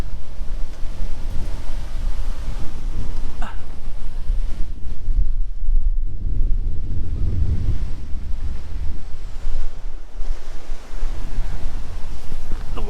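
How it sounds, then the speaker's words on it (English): Steady wind gusts across a sandy beach on Anna Maria Island, roaring continuously into the microphone along with rolling surf for the whole stretch, loud and close with no voices. "Hopefully the wind doesn't blow it away"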